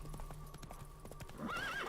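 Roach the horse gallops in The Witcher 3, with quick rhythmic hoofbeats and a brief whinny near the end over a faint background hum.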